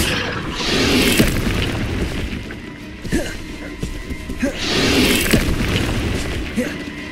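Incendio fire spell bursts in Hogwarts Legacy: two loud whooshing, roaring blasts of flame a few seconds apart, with thuddy impacts and clatter between, and a voice speaking over it.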